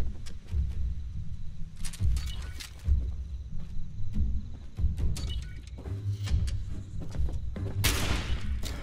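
Scattered gunfire in Fallout 76 crackles in sharp, irregular bursts at moderate distance, mixed with clatter and background game noise, fairly quiet overall with a brighter burst near the end.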